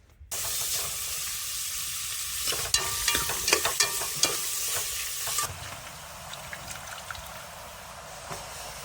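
Mutton sizzles hard in hot oil in a pan, a loud close crackling hiss with bursts of spattering and stirring scrapes, then settling to a softer steady fry, with no voices.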